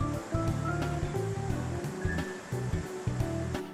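Loose potting soil being poured into a glass terrarium for succulents, a steady gritty rushing and pattering pour that runs continuously and close by, with brief breaks.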